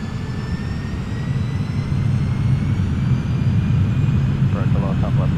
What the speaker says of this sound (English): Takeoff power is set.